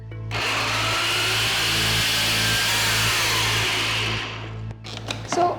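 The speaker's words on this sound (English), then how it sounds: "Now I'm using a food processor to blend this, but you can also use a mixer jar." A food processor grinds roasted sesame seeds and peanuts with a steady, loud whirring motor, running continuously for about four seconds before winding down and giving way to a few clattering knocks.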